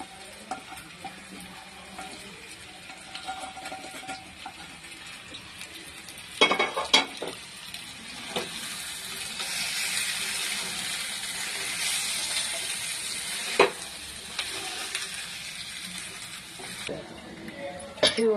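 Crabs with garam masala and fried coconut sizzling in a village pan as a spoon stirs them, steady frying hiss with scrapes and clinks of the utensil against the pan.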